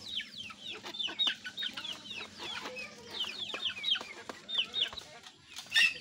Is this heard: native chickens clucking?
yes